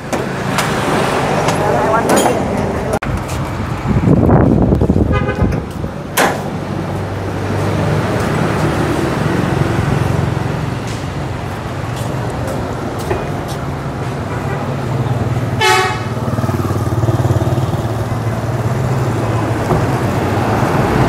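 A Honda Super Cub C125 motorcycle engine being started and run outside a shop, a steady low putter under roadside traffic, with people talking nearby.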